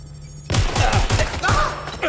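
In Watch Dogs: Legion, a suspect fires a quick run of about five sharp gunshots after a short silence, loud and close and spaced unevenly, followed by a louder crack near the end.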